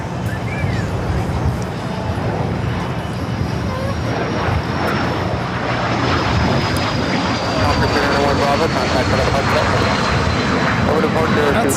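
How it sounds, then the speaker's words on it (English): A Hawker 800 XP business jet flying near LAX, a loud sustained roar with a thin whine sliding slowly downward as it passes, people talking over it throughout. "That's a Hawker 800 XP"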